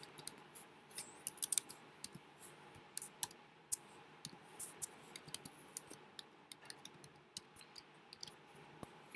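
Rapid, uneven clicking of keys on a computer keyboard, close and fairly quiet, in irregular bursts with short pauses and no talking.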